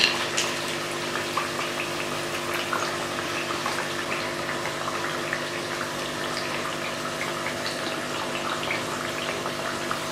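Eggplant and potato pieces fry in hot oil for pakora, giving a steady, dense sizzle and bubbling that runs without a break at close range.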